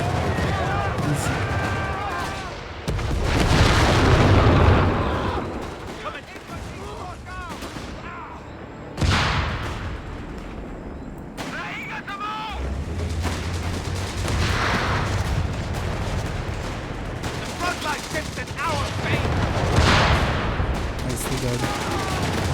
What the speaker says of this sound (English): That's some explosion, guys. It's a lot of explosion.